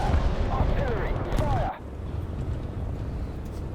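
Artillery shells dropped in a bombing run explode in the tank video game War Thunder, a dull rumbling barrage heard at a distance before cutting to quieter background noise.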